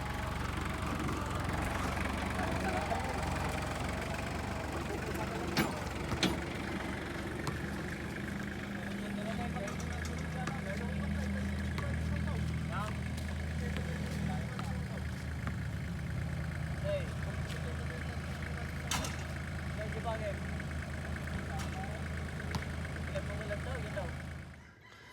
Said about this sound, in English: I hear the tractor coming